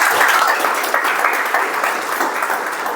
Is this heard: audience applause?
yes